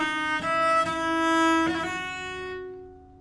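A viola da gamba plays a French minuet phrase with on-beat port-de-voix ornaments. It gives a few bowed, resonant notes with soft attacks, then a long sustained tone that rings out and fades.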